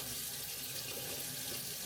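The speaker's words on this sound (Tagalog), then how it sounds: "Ayan yung tubig. Lumalabas naman." Water runs steadily from a garden tap for watering plants, a soft continuous splashing hiss heard close and alone for a brief moment.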